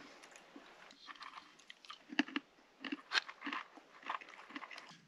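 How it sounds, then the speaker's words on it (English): Close, quiet crunching and chewing of nuts and beef jerky during a hiking snack break at a Death Valley summit, irregular bites and mastication against a faint background. "Gonna enjoy a snack here, take a little break, have some peanut butter, some nuts, some beef jerky"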